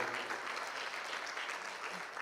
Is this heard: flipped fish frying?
no